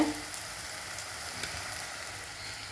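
Onions sautéing in a pan, a soft continuous sizzle held at a low, even level for a few seconds with no voice.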